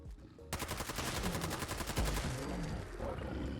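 Rapid automatic burst from an RPD machine gun in Fallout 4, a steady fast rattle of shots starting abruptly and running for about two seconds before fading into lingering reverb and game ambience.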